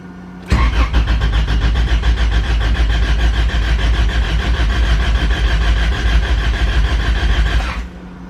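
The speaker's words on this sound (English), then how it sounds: "I'm gonna you know, crank it so they can build oil pressure." A B20 VTEC engine cranks steadily on the starter for about seven seconds to build oil pressure, a loud, even, rapid churning that starts abruptly and cuts off, with no talking.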